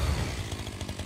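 A chainsaw sword in the Rogue Trader video game, a brief close buzzing rev with a rapid rough chatter, heard alone without speech.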